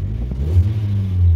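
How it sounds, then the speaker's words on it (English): A warmed-up 2010 Toyota Yaris with an automatic transmission idles nearby, giving a steady low engine hum and rumble throughout with slight fluctuations and no talk. "So while the engine is running, okay, the engine is running"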